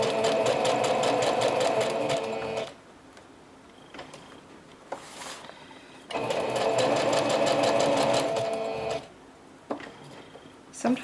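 A sewing machine stitches through a paper bag. Its dense, rapid mechanical whirring runs loud and close in two long bursts, with quiet pauses and a few soft clicks between them.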